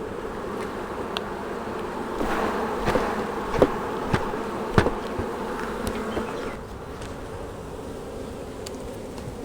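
Honey bees swarm in a thick, continuous buzz as frames are shaken into an Apimaye nuc for a split, with several sharp knocks and thuds of frames striking the box.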